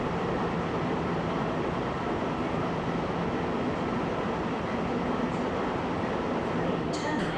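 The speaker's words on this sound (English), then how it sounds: "We now see GL112 departing Sydney and will be making its first stop to Wollongong" A GL class diesel locomotive, GL112, pulls out of Sydney with a steady, moderately distant rumble and rolling rail noise that hold for several seconds without break.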